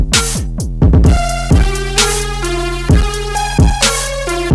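Synthesized Octone notes land evenly on every quarter beat from a Euclidean sequencer, each a bright pitched tone with a sharp attack and sustain, shifting pitch from note to note in a steady, clean pattern without any voices.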